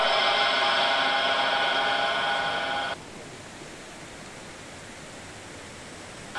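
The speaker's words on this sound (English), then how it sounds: "Can't hear much because of the water." Constant rushing water hisses loudly, with a bright tonal layer over it for the first three seconds, then only the broad steady roar remains.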